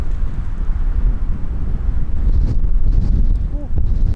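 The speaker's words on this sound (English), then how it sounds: "it's getting pretty stormy and windy here." Strong wind roars and buffets steadily across the whole stretch in stormy Death Valley, loud and close, with gusty surges and a faint voice briefly underneath.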